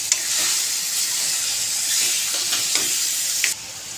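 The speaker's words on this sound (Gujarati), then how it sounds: "ટુકડા કરેલા પનીરને ઉમેરી દેવાનું છે આવી રીતે ચમચા વડે તેને હલાવી દઈશું" A spoon stirs paneer cubes in a pan for Paneer Kaju Katri curry, with steady close scraping and a soft sizzle running throughout, no voices, the noise dropping sharply near the end.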